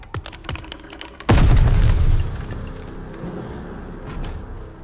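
A grenade explodes in Call of Duty Vanguard, a sudden loud booming blast after a few faint clicks, followed by a rumbling tail that slowly decays into low background noise.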